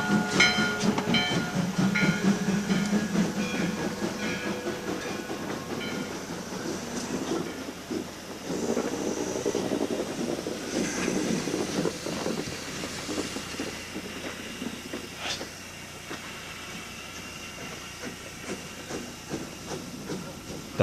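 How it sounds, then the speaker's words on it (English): A steam locomotive works along a line near Mt. Rainier, loud and continuous with hissing steam, chuffing and rolling rail clatter that fades somewhat as it passes. "steam locomotives can be seen operating in their natural habitat"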